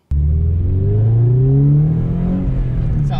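A car exhaust fitted with a Magnaflow muffler revs once, rising into a deep, bassy drone and easing back down, loud and close with no talking.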